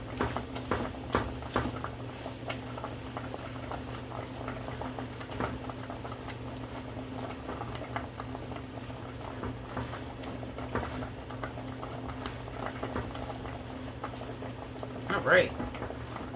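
Vegetables for an all-vegetable shepherd's pie simmering in a pot while being stirred, giving soft bubbling and patter with light scraping ticks throughout and a brief spoken word near the end.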